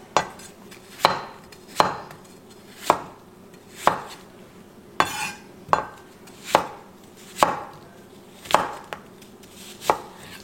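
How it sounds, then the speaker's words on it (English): A knife slicing food on a cutting board, sharp evenly spaced chops about one per second, close and clear, with no talking. "I'm going to cut them into smaller, kind of just slices."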